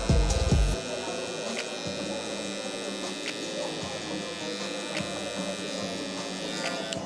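Electric hair clippers buzz steadily up close while cutting a fade with the lever closed, a constant humming drone after a brief louder start, with no talk.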